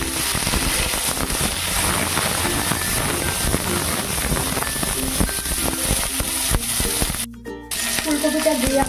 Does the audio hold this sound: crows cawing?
no